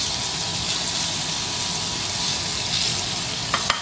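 Sliced honey garlic sausage browns in a pan with a loud, steady hiss of frying fat and a few sharp clicks of utensils near the end.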